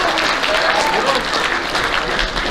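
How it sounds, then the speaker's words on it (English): A high school athletic banquet audience applauds JV players, a dense, continuous wash of clapping from a sizable indoor crowd, with a voice briefly audible beneath it. "Let's give these JV players a round of applause."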